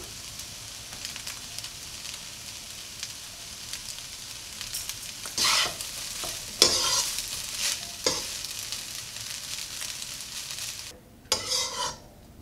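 Egg fried rice with salt and white pepper stirred in a pan under a steady sizzle, with a few bursts of scraping and clattering from the utensil and a louder flurry of stirring near the end.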